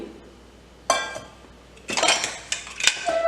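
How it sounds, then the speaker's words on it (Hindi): Metal clanks and clinks as a pressure cooker lid is handled and closed, several sharp knocks close up with brief quiet between. "प्रेशर कुकर को बंद कर देंगे और गैस को तेज़ कर देते हैं।"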